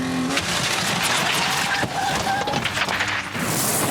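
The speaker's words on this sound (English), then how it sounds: "As he approaches the safe, his vehicle is reaching a top speed of around 70 miles an hour" A car speeds at about 70 mph toward a safe in a crash stunt, a loud continuous engine roar with rumble and rattling bursts, fairly close and unbroken throughout.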